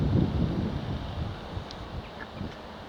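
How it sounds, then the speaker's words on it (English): Steady wind buffeting a microphone on a countryside walk near Firle in East Sussex, a low continuous rumble with gusts that rise and fall throughout, faint rustling beneath and no voices. "As the wind picks up a bit."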